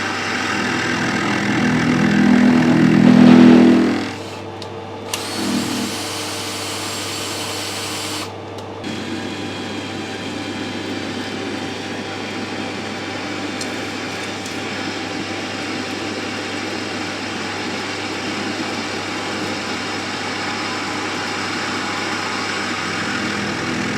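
A lathe machines stainless steel taper nuts on an interrupted cut, giving a loud whirring cutting noise at first that drops after a few seconds to a steady running hum for the rest, with no talking.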